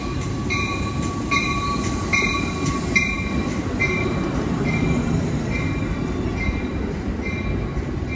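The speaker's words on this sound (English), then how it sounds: "Here comes the Illinois Zepher going to Quincy, Illinois." The Amtrak Illinois Zephyr passenger train rumbles past close by at the Naperville depot, steel wheels squealing and clacking in a steady rhythm over the rails.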